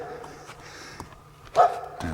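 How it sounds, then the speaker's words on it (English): A neighboring dog barks beside a 1979 Airstream Argosy camper, giving a few short distant barks and one louder bark near the end under quiet background hum. "Got a noisy neighbor, dog."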